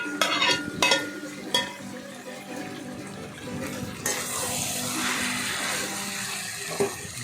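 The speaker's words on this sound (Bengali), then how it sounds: "দিয়ে সেটাকে ভালো করে নাড়াচাড়া করলাম" Katla fish head being stirred in a cooking pan, a few scraping stir strokes near the start over a steady sizzle that thickens into a dense frying hiss, with no voices.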